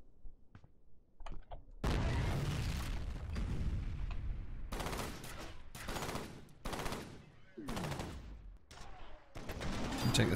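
Heavy combat in the F.E.A.R. shooter game: repeated loud bursts of gunfire and booming blasts from grenades arrive in clusters, each one cut off sharply, with brief quieter gaps and a few faint clicks in between.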